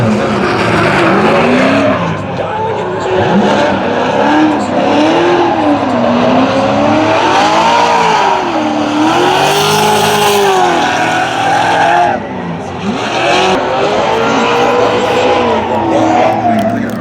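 A Corvette C6 drift car on track at Kern County Raceway during a qualifying run: a loud, close engine revs and wails in rising and falling sweeps, with screeching tire squeal throughout and a brief dip near the end.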